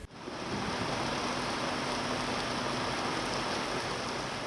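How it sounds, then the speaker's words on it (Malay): Heavy rain pours steadily at a COVID-19 quarantine and treatment centre (PKRC MIPS), a dense, continuous broadband hiss that rises in the first moment and then holds loud and even throughout, with no voices. "Hujan lebat melanda PKRC MIPS"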